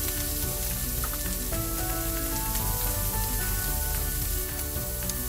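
Alaskan king crab meat sautes in a hot pan with sauteed peppers, a dense, loud, continuous sizzle and crackle close up, steady throughout with no talk.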